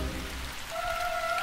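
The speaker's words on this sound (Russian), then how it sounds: "Кажется, дождь начинается." Steady rain begins in a cartoon, a dense even patter on a surface that holds constant throughout, with a sustained tone entering halfway.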